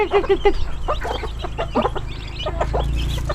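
Chickens and chicks cluck and peep close by in quick, overlapping bursts, a busy farmyard chatter with a low background hum throughout.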